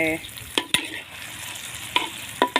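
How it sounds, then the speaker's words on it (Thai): Green chilies stir-frying in hot oil in a pan over a wood fire, a steady sizzle broken by several sharp scrapes and clanks of the spatula. "ทีนี้เราก็ ผัดพริกให้หอมสักหน่อยหนึ่งแล้วเราถึงจะเอาหมูใส่นะคะ"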